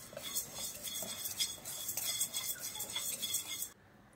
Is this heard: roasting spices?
yes